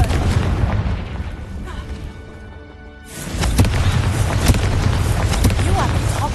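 A Confringo spell blasting in Hogwarts Legacy, a loud booming explosion with crashing rumble that swells after a brief dip and keeps roaring under game noise and voices.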